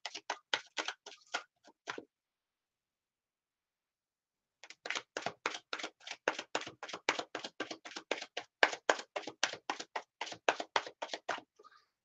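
Rapid, crisp riffling clicks in two bursts separated by a brief pause, close and quiet, like cards being shuffled.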